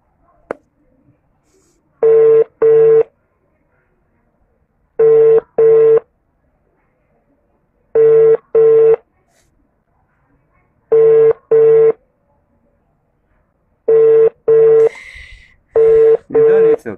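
A telephone busy signal repeats loud and close: paired short tones in a steady rhythm, six cycles over seventeen seconds, with a faint click at the start and slight noise near the end.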